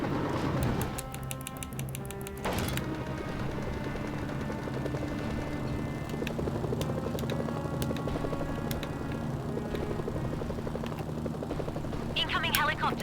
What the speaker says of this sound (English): Incoming helicopters.